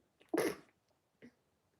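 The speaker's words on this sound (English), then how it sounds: "I'm gonna sneeze." A single sharp sneeze bursts out close by, followed a moment later by a brief faint sniff or breath.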